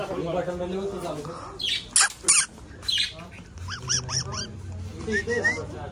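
Parrots squawk in harsh, repeated bursts close by, mixed with people talking and some shuffling noise.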